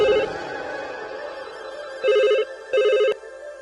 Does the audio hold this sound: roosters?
no